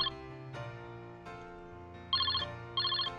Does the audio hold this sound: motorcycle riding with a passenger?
no